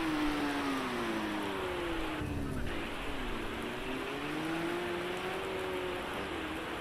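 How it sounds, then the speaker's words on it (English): A racing car powers out of a chicane on a wet track, its engine note rising and wavering steadily as the wheels spin, with a constant wash of spray and rain noise throughout. "You'll listen to it wheel spin on the way out."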